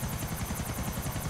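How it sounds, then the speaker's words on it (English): A helicopter in the video game Grand Theft Auto IV gives a steady, loud, close rotor chop with a fast even beat and a droning engine, with no talking. "I like how I'm holding forward, but my helicopter's still veering wildly."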